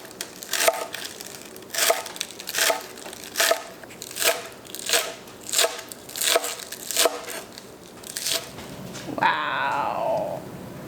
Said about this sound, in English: Also chop up some green onions.